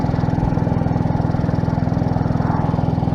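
Royal Enfield Bullet 500 motorcycle with a sidecar running while riding, a loud, close, steady single-cylinder thump with rapid even pulses throughout.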